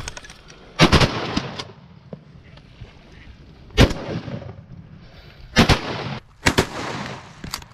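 Shotgun shots ring out during a mallard duck hunt in Oklahoma, several sharp loud blasts spaced apart, two in quick succession near the end, with faint background noise between them.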